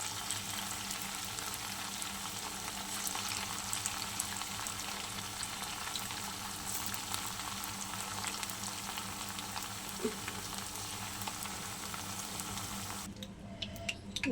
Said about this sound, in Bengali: সবগুলো পকোড়া আমার ভাজা হয়ে গেছে